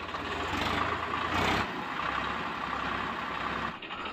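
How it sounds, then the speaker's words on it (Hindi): A tractor engine runs steadily after a crown pinion repair, a loud mechanical drone with a brief surge in the middle before settling. "तो फाइनली अब हम देखेंगे ट्रैक्टर को आगे बढ़ा के"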